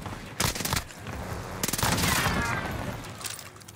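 Gunfire from a weapon in a video game sounds as several loud bursts of rapid shots. Bursts come at about half a second, 1.6 seconds and 2 seconds, with sustained rattling noise in between. There is no talking.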